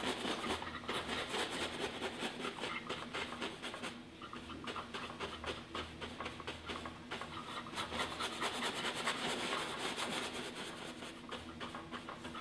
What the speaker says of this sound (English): I really like the sound of that brush scrubbing on the canvas